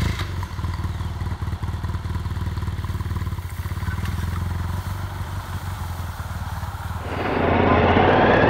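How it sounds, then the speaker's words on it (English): A 2018 BMW enduro motorcycle on an off-road riding course: rapid engine pulsing with clattering and thumps from the ride over gravel, swelling into a louder rush of wind and engine near the end. "Well, here we go, boys and girls, riding on gravel."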